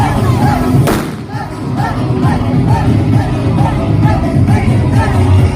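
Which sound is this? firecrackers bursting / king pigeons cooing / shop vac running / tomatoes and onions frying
firecrackers bursting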